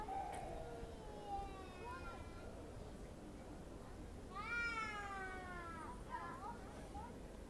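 A cat at Alanya Castle in Türkiye meows repeatedly in long, drawn-out wails that rise and fall, sounding close and fairly loud over a steady outdoor background.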